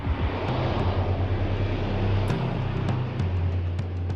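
An official airplane arriving in Taiwan on 2 August 2022, carried live on television: a steady, loud jet-engine roar fills the whole stretch with a low droning rumble and no talking.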